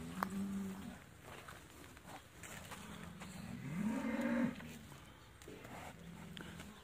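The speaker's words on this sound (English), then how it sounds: "These are the bulls, these ones." Bulls at a beef week cattle sale give low, drawn-out moos, one swelling louder in the middle, over steady outdoor saleyard background noise.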